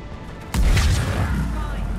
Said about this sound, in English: Have an explosion in your face.